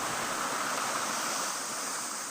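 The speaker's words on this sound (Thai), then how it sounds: "ถือว่าน้ำยังไหลแรงนะคะ" A waterfall at a fishing spot, running strongly, gives a steady, loud, unbroken rush of water throughout, with no voices.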